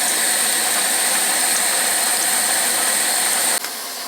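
A Coleman Exponent 550B single-burner camp stove burning on high, a loud steady roaring hiss of gas flame held close, dropping abruptly near the end.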